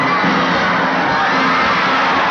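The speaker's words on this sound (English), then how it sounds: "They up here cheering them on." A crowd cheering on dancers in the 1946 film It's a Wonderful Life: a dense, steady wall of shouting and whooping voices, loud and continuous for a couple of seconds.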